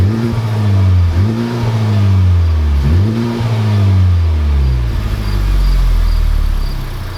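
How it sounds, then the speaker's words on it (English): Honda Civic Type R engine and exhaust revving, loud and close, rising in three repeated throttle blips that sweep up and drop back before easing into a low steady idle. "One disappointing feature, the exhaust note"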